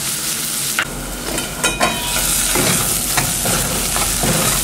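Onions frying in a little oil in a kadhai, a loud steady hiss and crackle close by, punctuated by several scraping stirs of a spatula against the pan and no talking.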